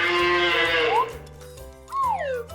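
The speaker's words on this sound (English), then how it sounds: "C-O-W. Cow." A cow moos twice, a long sliding low call and then a second rising and falling moo, clear and close with a steady low background hum.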